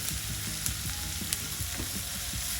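Onions sauté in oil with garlic and a cut green chili, a loud, close, steady sizzle broken by light spoon stirs and a couple of sharp clicks, with no talking.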